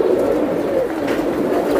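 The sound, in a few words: female Giribaz pigeon cooing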